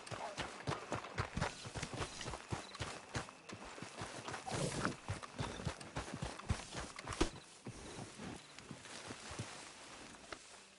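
Horse hooves clip-clopping in a PS4 game, a steady walking rhythm of many close, crisp hoof strikes, fairly quiet, with no talking over them.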